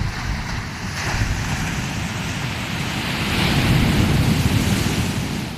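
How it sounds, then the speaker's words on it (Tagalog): Waves wash onto a beach at a seaside property, a continuous rushing surf mixed with wind buffeting the microphone, swelling louder toward the end with no talk. "ito yung tabing dagat ng property na bibili ni Ate Vilma."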